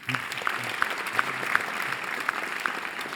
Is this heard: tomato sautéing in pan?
no